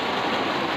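A solar-powered water pump motor on a farm gives a brief, steady mechanical hum, even and continuous at close range.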